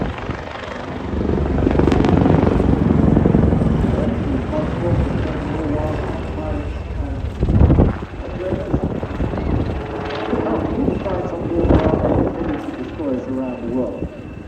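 A Royal Navy Wildcat helicopter of 85 Naval Air Squadron flies at a seaside airshow, its rotor and engine roar steady and fairly loud with wind buffeting, while a commentator talks over it throughout.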